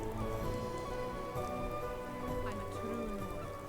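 Steady rain falls in a Skyrim game scene as a soft, even hiss of drops that holds throughout, moderately quiet and without speech.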